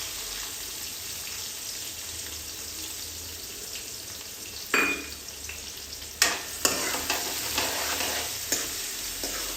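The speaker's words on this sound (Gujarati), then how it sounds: "જો આપણે ડુંગળી છે ને એને સાંતળી લેવાની એકદમ." Onions sautéing in hot oil with mustard seeds, cumin and asafoetida for a spiced okra curry, a steady close sizzle broken by a few sharp stirring clatters toward the end.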